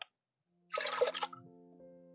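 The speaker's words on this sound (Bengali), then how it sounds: "এবার আমি এর মধ্যে 1 বাটি জল দিয়ে দিচ্ছি।" Water poured from a bowl into a pressure cooker holding lentils for a Bengali moong dal with gourd, a short splashing gush that settles into a quieter trickling fill, close by with no talk.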